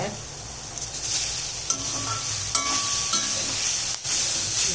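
Coconut, ginger, tamarind and curry leaves sauté in a pan with a steady, close sizzle and hiss. A spoon stirs through them now and then with light scraping.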